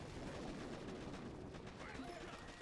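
An artillery barrage pounds targets in the Boom Beach video game, a dense rumbling roll of rapid overlapping blasts and gunfire, with someone talking over the constant din.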